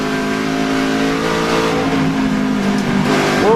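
Onboard NASCAR Nationwide Series race car driven by Stephen Wallace at Gateway, its engine droning loudly and steadily with sustained harmonic tones, rising in pitch toward the end as it accelerates.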